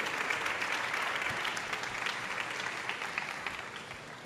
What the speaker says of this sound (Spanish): quiero que le demos un fuerte aplauso a Pedro